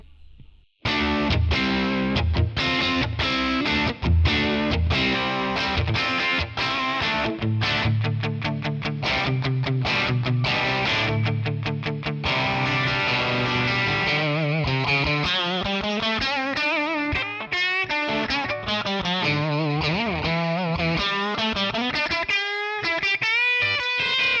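An electric guitar played on a Stratocaster neck pickup through a Magnatone amp model with reverb, a continuous lively run of chords and single-note lines, loud and close with no talking.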